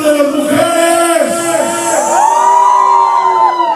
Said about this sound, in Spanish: A ver un grito de las mujeres.